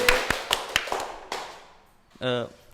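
Audience clapping at an Indonesian talk event, heard as several sharp, evenly spaced claps close by, thinning out before a brief voice at the end.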